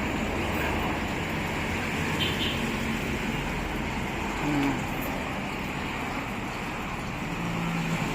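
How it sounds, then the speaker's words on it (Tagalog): Busy road traffic rolls past continuously, a steady broadband roar of many cars with no single vehicle standing out and faint birdsong mixed in. "ayan, dami pa rin mga sasakyan."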